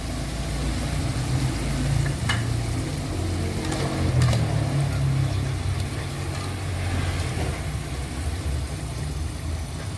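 Banana pieces deep-fry in hot oil for Thai snow bananas. A steady, close, even sizzle carries on throughout with a low background hum.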